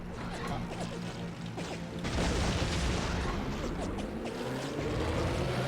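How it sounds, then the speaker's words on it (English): A bomb explosion in the PS2 game Heroes of the Pacific during the Battle of Tarawa bursts out loud and dense midway, over a steady droning engine with scattered crashes and booms. "Just a bomb explosion."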